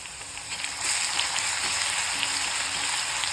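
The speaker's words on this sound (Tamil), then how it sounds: "இந்த டைம் வெள்ளைப்பூண்டு கருவேப்பிலெல்லாம் நல்லா பொரிஞ்சு வந்துருச்சு நம்மளுக்கு" Crushed garlic and curry leaves fry in hot oil for a potato fry, giving a steady, bright, crackling sizzle that continues evenly throughout, close up with no talk.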